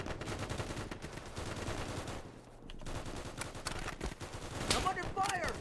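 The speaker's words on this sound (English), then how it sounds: "I'm under fire!" Gunfire in Easy Red 2 during the Battle of Kwajalein, rapid bursts of rifle and machine-gun shots crackling almost nonstop. A short lull comes partway through, then the firing resumes, heavier near the end, with voices mixed in.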